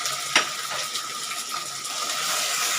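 Tomato and spice masala sautés in a pan, a close steady sizzle with a sharp scrape of a spoon early on and light stirring clicks afterward.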